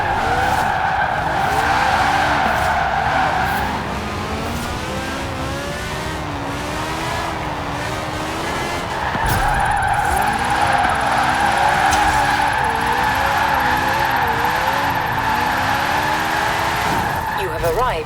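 Austin Seven from 1924, set up with all-wheel drive and a drift tune, slides through Forza Horizon 4 with a steady buzzing engine and long tire skids, loud and continuous for the whole stretch with a short dip in the middle.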